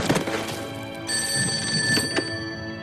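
A telephone bell rings out in a wartime drama setting, a bright sustained metallic trill starting partway in, loud and near, preceded by a few dull thumps.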